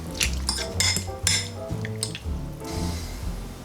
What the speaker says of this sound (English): then just mash it all together with a fork